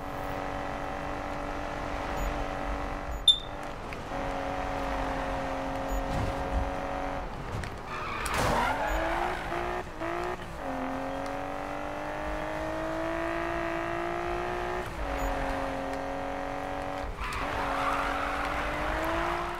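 A Nissan GT-R in the Need for Speed racing game roars at steady high revs, with tires squealing loudly through skids and the engine note dipping and surging between gear changes.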